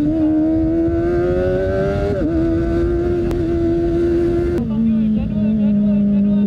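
Kawasaki ZX25R motorcycle exhaust droning steadily while riding, its pitch climbing gradually then dropping sharply as it shifts, a loud continuous engine tone close to the rider.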